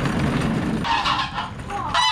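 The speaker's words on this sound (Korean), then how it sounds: "거위가 목소리가 제일 크네." Geese at an insect and ecology park's animal enclosure honk loudly in repeated bursts, the calls close and harsh, with no talking over them.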